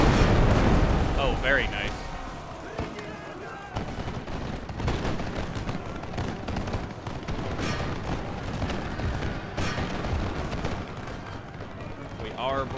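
Musket lines fire in Total War: Empire at the Battle of Malta with France, heavy crackling volleys and booming shots rolling across a noisy battlefield while someone talks over the gunfire.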